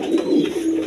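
Roman Gal and Giribaz pigeons coo in a low, steady murmur, a close continuous burble of soft calls with no voices.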